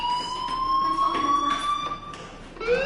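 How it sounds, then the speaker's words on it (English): A school fire alarm from Life is Strange rings out as a loud, steady electronic tone with a sustained pitch, holding nearly unbroken before a brief shift near the end. "Hey, do you hear that fire alarm?"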